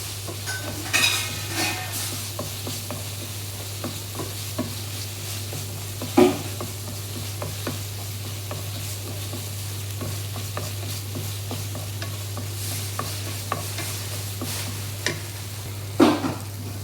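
Tomatoes with salt and white pepper are stirred in a pan, giving soft scraping and occasional sharp clinks of a utensil against the pan over a steady low hum and faint sizzle.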